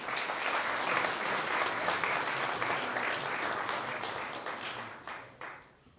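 Applause from an audience at a school underform awards ceremony, a dense, even roar of many hands that holds steady for about five seconds, then thins and fades out at the end.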